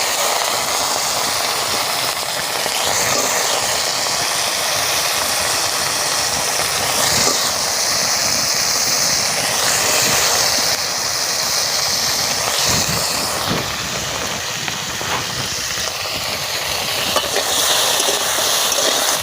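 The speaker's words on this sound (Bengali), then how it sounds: "এবার তেলের মধ্যে কাঁকড়াগুলো দিয়ে দেব" Crabs frying in hot white oil in a wok, a steady loud sizzle crackling continuously throughout with no talk.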